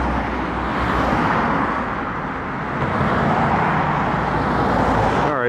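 Steady, loud road traffic with cars rushing past close by, a continuous broadband roar that swells slightly as vehicles go by, with no voices.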